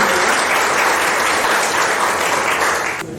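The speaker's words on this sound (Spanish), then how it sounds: "aplausos" Dense, steady applause fills a hall at a Peruvian civic gathering, many hands clapping loudly and evenly before thinning slightly at the very end.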